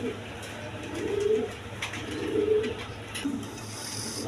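A pair of red Gorra pigeons for sale give soft, low coos, three short rounds spaced about a second apart, set against a steady background hum.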